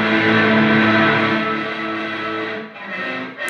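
Guitar played through the reverb of the Laney Ironheart Aurora DSP plugin, a sustained chord ringing out loud and washed in ambience, decaying slowly over a few seconds before a brief new attack at the end.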